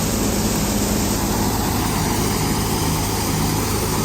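A tractor engine running under load while powering a thresher, a dense, constant droning roar with a heavy low hum and broadband mechanical rattle, steady and close throughout.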